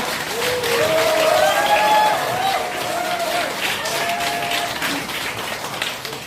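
Applause from the crowd at the launch ceremony of an emergency committee against prosecutorial oppression, sustained clapping mixed with crowd noise and overlapping voices, a few people speaking and calling out over it.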